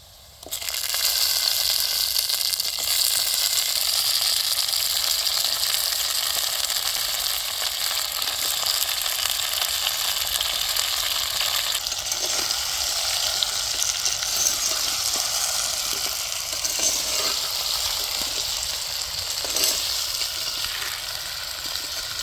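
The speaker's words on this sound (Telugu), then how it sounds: "ఇప్పుడు మనం ఇందాక నీట్గా శుభ్రం చేసి శుభ్రంగా కడుక్కున్న గుమ్మడికాయ ముక్కలను వేసేసుకుందాం" Chopped pumpkin pieces tipped into a pan of well-browned frying onions, giving a steady, close sizzle with soft crackles and brief scraping stirs throughout, no talking.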